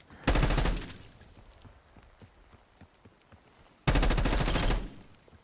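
Two loud bursts of rapid automatic gunfire in Black Ops 6 as the player dives forward, separated by a quiet stretch with faint footsteps.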